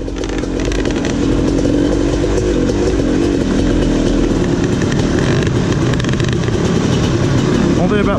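A dirt bike engine labors and bogs as it climbs hills in a Virginia hare scrambles race, a loud, continuous, strained drone close by with no clear revving peaks, under occasional talk.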